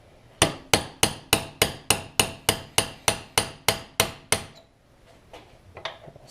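Repeated hammer blows on a large 3/8 punch driving a shock bushing sleeve out of a 400EX ATV, about a dozen sharp metallic strikes in steady rhythm, close and loud, followed by a few fainter taps.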